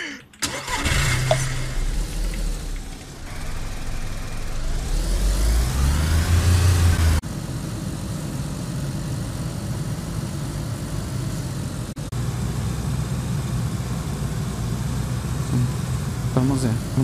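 A car engine in the DayZ survival game cranks and turns over, then settles into a steady running hum, with voices talking over it.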